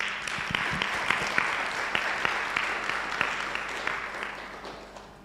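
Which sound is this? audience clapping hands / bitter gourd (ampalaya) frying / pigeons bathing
audience clapping hands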